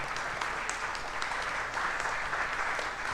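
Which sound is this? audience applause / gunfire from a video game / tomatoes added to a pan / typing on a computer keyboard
audience applause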